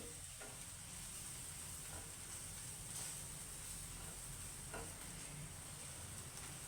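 Gram flour roasting in a pan while being stirred, a continuous dry sizzle under steady scraping strokes of the spoon, with no voices.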